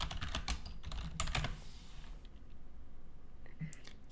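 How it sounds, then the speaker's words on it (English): Computer keyboard typing comes in quick bursts of sharp clicks, close and fairly loud for the first second and a half, then softer scattered keystrokes over a quiet room background, with a bit of whispered talk. "People can enjoy the sound of my typing."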